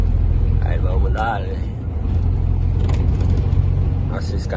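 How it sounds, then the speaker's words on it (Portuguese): A Scania truck towing a small trailer revs its engine with a steady deep rumble and some crackle from the exhaust pipe despite a muffler, loud and close under continuous talking. "esse caminhão mesmo com silencioso, ele já dá uma estralada, velho, no cano."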